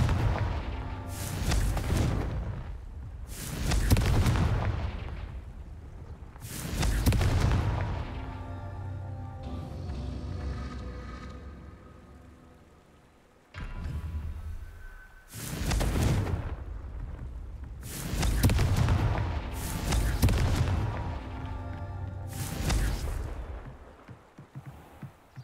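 Repeated heavy fire-spell explosions in Hogwarts Legacy, a series of loud booming blasts arriving every few seconds with rumbling decays, with no talk over them.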